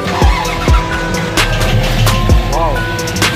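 A Ford Mustang with a forged, internally built V8 at a Mustang meet in Lima makes loud, rough engine noise with sweeping rising and falling tones and squeal-like bursts over a steady low rumble, with voices in the background.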